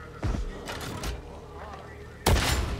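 Gunfire in the video game Warhammer 40k: Darktide sounds as several sharp, booming shots, a cluster early and a louder blast near the end, over a steady game background.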